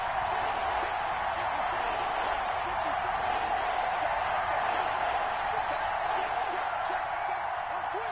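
A stadium crowd in a PS4 American football video game roars steadily as a big third down approaches. The dense, loud wash of noise continues without a break from start to end.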